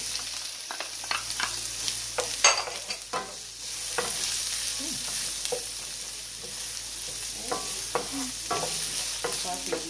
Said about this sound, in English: To that I'll be adding my scallion and thyme. I'm going to saute these.